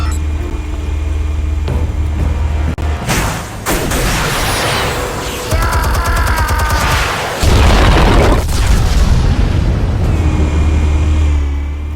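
Explosives detonating in Batman: The Telltale Series, a deep booming blast followed by rumbling debris and roaring fire layered over a low sustained drone, loud and close.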